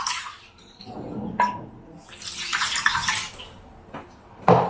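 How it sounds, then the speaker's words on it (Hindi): Water poured into a kadhai for sugar syrup while making suji halwa, a splashing, broadband pour that swells mid-clip and ends with a brief louder splash, with no talk over it. "उतना ही हम पानी डालेंगे, जितनी चीनी डाली थी उतना ही हम पानी डालेंगे।"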